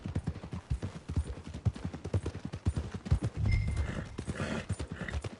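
A horse's hooves clip-clop steadily at a trot in Red Dead Redemption 2, close and rhythmic, with a brief low rumble partway through.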